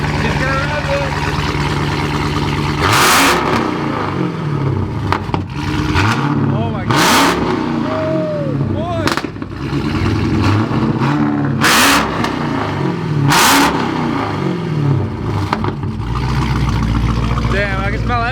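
Car engine with catalytic converters removed revving hard in repeated loud bursts, close and raw, while people react with exclamations over it.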